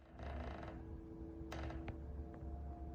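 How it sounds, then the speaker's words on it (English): A clothes dryer runs in a basement with a shoelace aglet tumbling inside, a steady low mechanical hum and rumble broken by a few faint, sharp ticks and taps. "somebody's got the dryer running in the basement, and there's something in the dryer"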